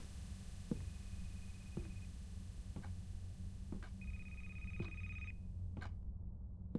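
In a horror video game, a phone rings with an incoming call: several faint electronic rings and beeps at intervals over a low steady hum, quiet and alone.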